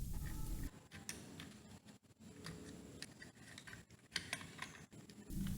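Small bolts are unscrewed from a WPL D12 RC truck, giving soft, irregular clicks and ticks of a screwdriver on plastic and metal, close up and quiet, with no one speaking.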